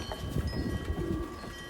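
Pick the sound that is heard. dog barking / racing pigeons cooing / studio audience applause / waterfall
racing pigeons cooing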